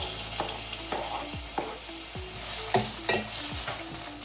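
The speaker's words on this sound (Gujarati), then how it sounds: "તો હવે જે આપણે ટોમેટો અને ઓનિયન ચોપ કરેલું છે એડ કરીશું ઓઇલમાં." Chopped tomato and onion fry in hot oil with a close, steady sizzle, punctuated by repeated scraping and clinking stirs of a utensil against the pan at roughly half-second intervals, with no talking.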